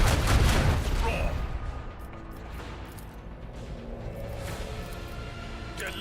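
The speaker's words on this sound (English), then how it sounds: "I want to hear the cannons roar." Macro cannons firing in Warhammer 40000: Rogue Trader, a heavy opening boom followed by a dense rolling barrage of distant blasts and rumbling, sustained loud low-end reverberation throughout.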